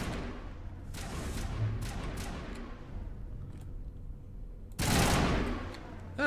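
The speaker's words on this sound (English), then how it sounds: "guess we'll have to shoot him the old-fashioned way" Gunfire from the Mass Effect 1 video game rattles in bursts of rapid shots over a dull background rumble, with a loud crackling blast near the end.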